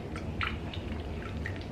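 Breast milk pours from a wearable pump into a storage bag in a few soft trickles and drips, with a low background hum.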